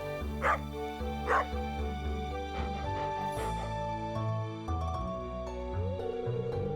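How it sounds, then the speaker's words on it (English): A stray dog in the farming video game Stardew Valley barks and yips in short, repeated bursts over steady game music. "You see this dog here?"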